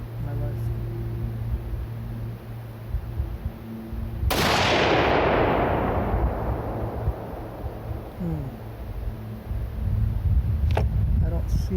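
A single loud gunshot from a rifle firing homemade reloaded bullets, a sharp blast with a long decaying echo rolling across an outdoor range, set against steady background hum and wind.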